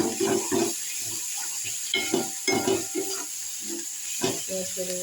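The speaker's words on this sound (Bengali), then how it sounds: "লাল লাল করে ভাজা হচ্ছে।" Eggs sizzle and crackle as they fry until reddish in a hot pan with steady hissing, while a utensil scrapes and stirs in rhythmic bursts close by.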